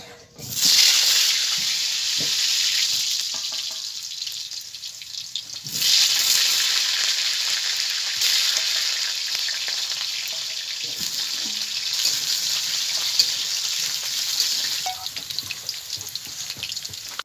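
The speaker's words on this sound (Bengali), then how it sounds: "আলুগুলো আগে থেকে কেটে ধুয়ে রেখেছিলাম ওটা ভেজে নেবো" Loud, steady sizzling of sliced potatoes frying in hot oil fills the whole stretch, with occasional clinks of a utensil stirring close by.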